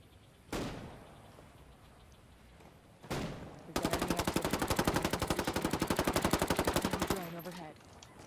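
Gunfire in the Ghost Recon video game: two isolated single shots are followed by a long, loud, rapid automatic burst of several seconds with a fast even rhythm, then a fading echo.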